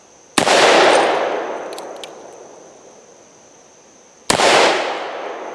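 Two loud gunshots from an 1858 New Army revolver fitted with a .45 Long Colt conversion cylinder, each a sharp crack with a long decaying echo, spaced about four seconds apart outdoors, with no talk.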